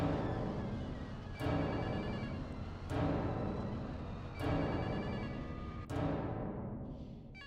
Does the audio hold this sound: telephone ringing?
yes